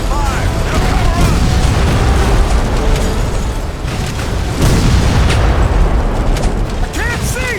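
Loud booming explosions as a ship is hit during a naval battle in History Civil War: Secret Missions, heavy blasts rolling over a dense din of combat with voices shouting underneath.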